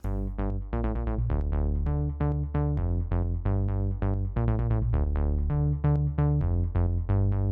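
A thick, saturated synth bass plays a rhythmic pattern of repeated notes, warm and gritty in the low-mids, loud and alone without any voices.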